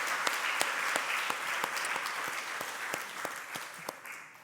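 A church congregation claps during a Sunday worship service, steady scattered applause from a room of people, fairly soft and distant, with no talking.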